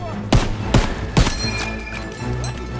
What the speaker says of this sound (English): Covering fire on the MG!